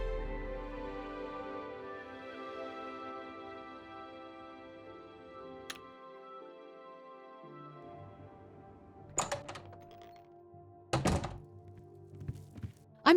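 A locked door in The Elder Scrolls IV: Oblivion is tried, giving two heavy, hollow thunks a few seconds apart over sustained game music.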